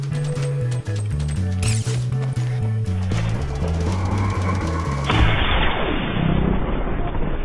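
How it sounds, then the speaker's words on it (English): Shotgun blasts and game sounds from a Fortnite match ring out over background music, with a heavy booming shot near the middle and a dense burst of fire and impacts toward the end. "I ran right into his shotgun"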